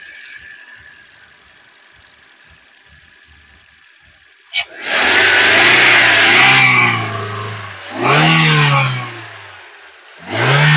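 Toyota Corolla Altis petrol engine, close and loud, revved three times after a quiet stretch of faint ticking: one long sustained rev, then two shorter bursts that rise and fall.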